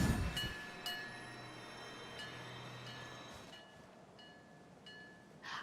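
Train moving in a video game: a steady low rumble with faint airy hiss and occasional soft clanks, fading slightly toward the end, with no talking.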